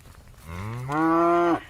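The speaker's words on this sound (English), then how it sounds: "I'm walking my dog and my cows." Beef cattle on an 1840 homestead farm give a single loud, close moo during a morning walk, rising in pitch and holding steady for about a second before cutting off.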